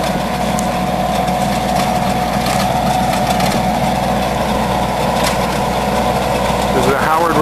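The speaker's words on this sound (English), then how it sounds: "This is a Howard rototiller. It's about a 48-inch tiller, and it's on a 35-40 horsepower Kubota." A Kubota tractor of about 35-40 horsepower running a 48-inch Howard rototiller, a loud steady low engine drone that holds throughout with someone talking over it.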